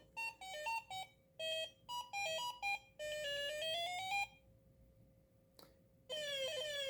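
Coleco Pac-Man tabletop arcade game from the early 1980s running its demo mode, playing loud electronic beeping tunes in short rhythmic bursts, then a rising run of tones, a brief pause, and another descending electronic melody.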